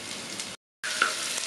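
Green chillies fry in hot oil with ginger and garlic for a Kerala-style fish curry, giving a dense, close sizzle that cuts out briefly before resuming, with no talking.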